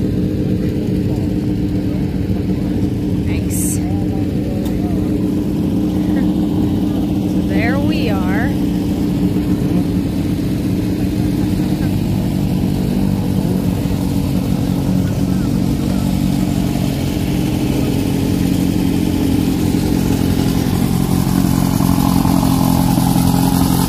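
Class 11 off-road race cars drive past at a desert off-road race, their engines droning loudly and continuously with some revving, while voices talk over the noise.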